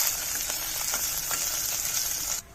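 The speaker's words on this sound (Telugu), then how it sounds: "కుక్కర్లో కొద్దిగా ఆయిల్ వేసి వేడి చేసుకొని జీలకర్ర వేస్తున్నాను." Cumin, crushed clove, cinnamon, green chilli and chopped onion fry in a little hot oil inside a pressure cooker, a steady close hiss of sizzling that cuts off abruptly near the end. No speech.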